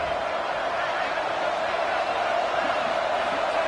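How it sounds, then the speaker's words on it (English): A football video game stadium crowd roars continuously, a broad steady wall of cheering and murmur at constant loudness with no distinct peaks. "Listen to the crowd energy here in the early going."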